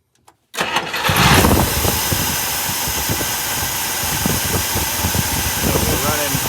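A 1959 Buick engine with an electronic ignition box cranks and catches after a brief silence, then settles into a loud, steady, close idle with a rough, pulsing rumble.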